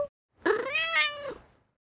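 A single cat meows once, clear and close, a drawn-out rising-then-falling call in otherwise quiet surroundings.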